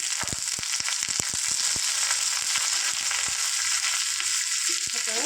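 Curry leaves hit hot oil with a loud, continuous sizzle, dense with rapid crackling pops that thin out toward the end.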